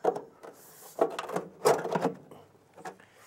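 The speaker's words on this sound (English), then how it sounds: "the gutter should slide down easily" A detached downspout or gutter section slides down its bracket once the screws are out, giving a few short, close scraping rubs in quick bursts with brief pauses between them.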